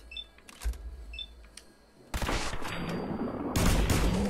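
Laser rifle fire in the video game Fallout 4: loud broadband bursts of rapid shots, one volley starting midway and a second, louder one near the end, following quieter clicks and beeps.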